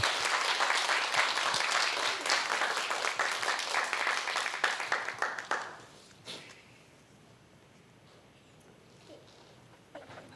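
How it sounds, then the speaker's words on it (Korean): A church congregation applauds at a Wednesday family worship service to welcome a missionary serving in Africa, a dense wash of clapping that fills the room for about five seconds, then drops away abruptly to near quiet. "박수로 받겠습니다."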